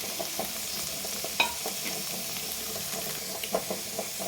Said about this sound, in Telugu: ఇప్పుడు దీంట్లో వెల్లుల్లి కారం కలిపింది ఇందులో వేసుకొని కలుపుకోవడం.